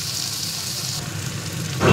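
Jackfruit seeds fry in a pan with a steady, close sizzle and crackle that keeps an even level throughout, with a brief louder stir or scrape near the end.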